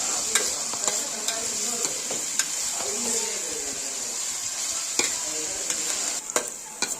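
Onions being sautéed in a pan for a Chettinad chicken gravy sizzle steadily while a spoon taps and scrapes the pan at irregular moments throughout.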